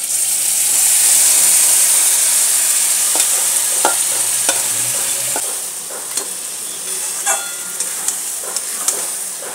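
Mutton pieces added to whole garam masala and a little oil and stir-fried in a pan: a loud hissing sizzle that settles, followed by scattered clinks and scrapes of stirring.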